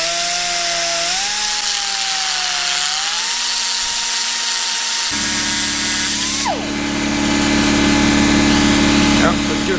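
Tungsten electrode ground on a spinning disc alongside a welder, a loud steady motor whine with shifting pitch, a rougher grinding tone joining midway, no voices heard.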